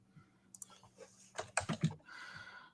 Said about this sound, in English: can you hear how clunky this laptop is?